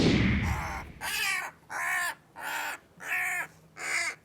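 A bird stuck inside a chimney in Aberdeen calls out loudly and repeatedly, giving five harsh, crow-like caws in an even rhythm with short pauses between them, close and clear with no talking.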